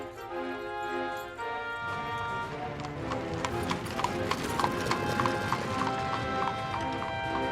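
Horse-drawn carriages clip-clop along a Detroit street in 1902, with rapid overlapping hoof beats that grow busier and louder partway through, over a steady background rumble.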